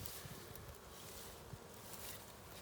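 Honey bees from a newly installed package hum steadily inside the hive box, a faint, continuous insect drone with no voices.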